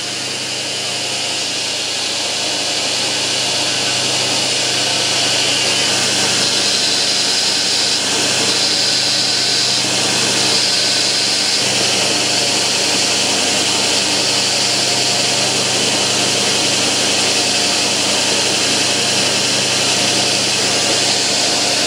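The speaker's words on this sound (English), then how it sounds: "Clean the pins and sand the handles to the desired finish." Power sander working the epoxied handle scales of a handmade everyday-carry knife, a loud, steady whirring grind that runs unbroken for the whole stretch with no voices.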